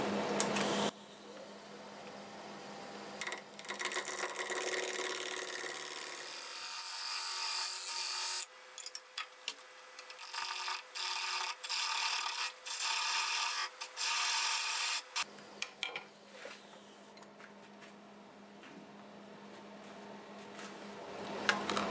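A wooden bowl blank turning on a lathe as a tool cuts down to form a shoulder, giving a close, steady scraping rasp that drops out and resumes in short bursts over a low motor hum.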